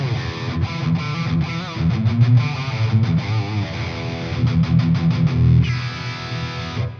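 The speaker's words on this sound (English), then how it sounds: "WGS Green Barrett is mic'd up with the S Electronics R1 ribbon microphone" A Gibson Les Paul plays through a Marshall JVM410H into a WGS Green Beret speaker, miked with a ribbon microphone. The distorted, high-gain riff mixes chugging palm-muted notes and sustained chords, dense and loud throughout.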